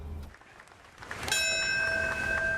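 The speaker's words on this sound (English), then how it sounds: "A bell rang out ahead of the first moment of silence at the World Trade Center" A clear bell tone rings out and sustains at a 9/11 anniversary ceremony at the World Trade Center, heard from a distance over faint crowd ambience.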